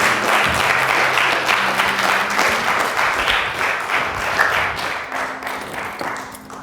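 An audience at a magic show applauds with dense, steady clapping that holds loud for several seconds before easing slightly.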